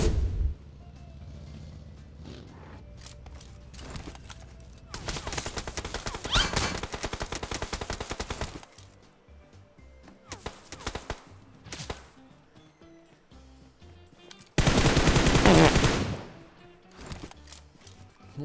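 Gunfire rings out in a shooter game, with several long, loud bursts of rapid automatic fire broken by scattered single shots and quieter gaps.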